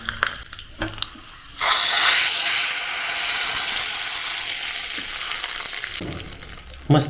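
Cumin seeds are tipped into hot oil for a tadka, setting off a sudden loud crackling sizzle that holds steady for several seconds before dying down, with a few clatters before and after.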